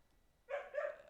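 A single dog barks twice in a short burst, moderately close and fairly faint, after a quiet start with no talking.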